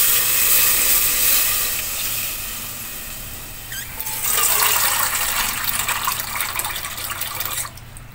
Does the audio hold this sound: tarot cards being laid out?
no